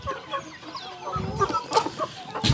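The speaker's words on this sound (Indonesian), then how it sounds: "Ini memang banyak jagonya ya, pejantannya." Bangkok fighting roosters clucking on a farm, with repeated close, uneven clucks and bursts of fowl calls layered over a busy background of other birds.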